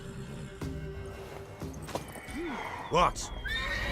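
In The Witcher 3, a mare gives a couple of high, wavering neighs near the end, with clip-clopping hooves and game background sound, and a voice speaks briefly.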